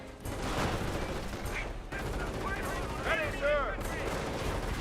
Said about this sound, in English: Grenadiers with STGs firing away, 2-2 firing.